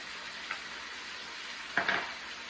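Sliced onion, mushrooms and chopped garlic frying with meat in a pan give a steady soft sizzle, broken by two brief scraping stirs of a utensil, close and moderate, with no voices.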